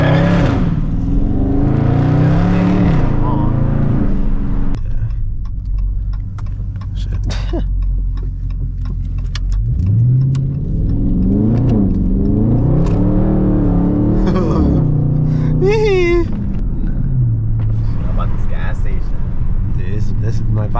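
Two straight-piped Dodge Scat Pack cars driving through traffic, loud rumbling exhaust rising and falling with revs and acceleration, close and continuous, with people talking over it throughout.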